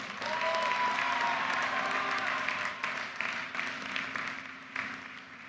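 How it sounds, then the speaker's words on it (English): A large university commencement audience claps, a dense, sustained wave of applause that fills the space and slowly thins toward the end. "Give them a round of applause."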